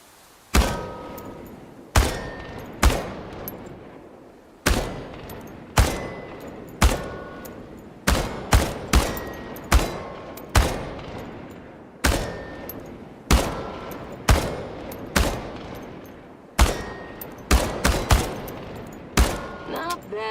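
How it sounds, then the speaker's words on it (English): Bursts of automatic gunfire from a game weapon in Chernobylite, shooting at cans on a practice range: short rapid volleys repeated about a dozen times with brief pauses between, loud and close, with no talking. "The biggest challenge is compensating for recoil in automatic firing mode."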